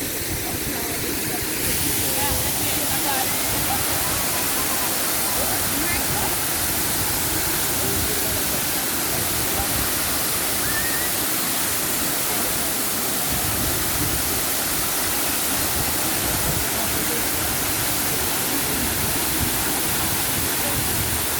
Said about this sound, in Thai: ค่ะชมน้ำตก